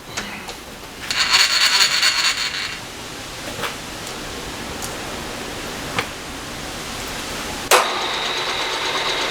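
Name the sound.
milling machine running old end mill at 660 RPM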